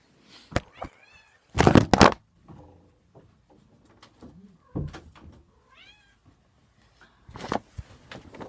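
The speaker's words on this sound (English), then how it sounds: "Freaking cat walked in" A house cat walks into the room and lets out several short meows, close and clear, spread across the stretch between pauses in other small room noises.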